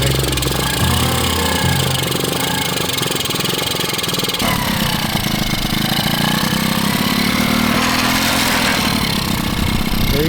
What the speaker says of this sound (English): It still doesn't sound like it's trying to idle very high.